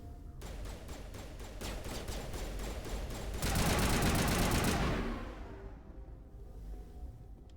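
Automatic weapon fire in the Mass Effect video game: continuous rapid-fire rattling that swells into a louder, denser burst midway, then cuts off into quieter ambience.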